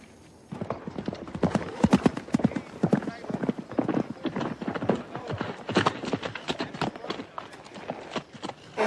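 Horse hooves clip-clop on hard ground, a quick uneven run of many hoofbeats, close and clear, with no voices over them.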